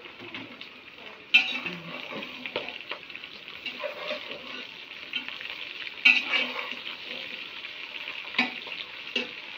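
Finely chopped onions tipped into bitter gourds frying in ghee and stirred, a steady sizzle under clinks of a spoon on the pot, with a couple of sharper knocks against the metal, close and continuous.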